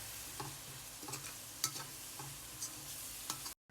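Ground spices, cumin and coriander powder with salt, are sautéed in a pan for goat liver bhuna: a quiet, low sizzle broken by regular spoon taps and scrapes, cutting off abruptly at the end.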